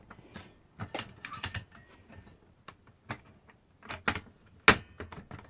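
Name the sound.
fitting a replacement NES cartridge connector into place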